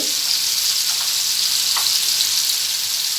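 Cauliflower sabzi sautés in a pan after turmeric is added, a steady, close hiss of frying with faint stirring scrapes, no voices.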